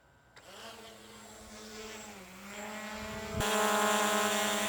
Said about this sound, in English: the drone is quite silent. It makes a very low pitch noise